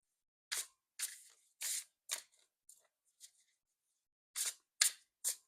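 Quick bursts of tarot cards riffling and snapping together, several separate shuffles with short pauses between them, close up and crisp.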